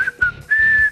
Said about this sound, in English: here comes the magic whistle.